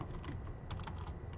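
Quick keystrokes patter on a computer keyboard, a short burst of close, soft clicks in an uneven rhythm over a faint background hum.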